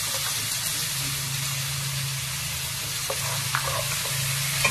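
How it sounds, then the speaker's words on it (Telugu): Curry leaves and onions fry in hot oil for a bitter gourd curry, a constant close sizzling hiss with a low steady hum beneath and a few faint crackles, no voices. "బాగా వేగనివ్వాలండి."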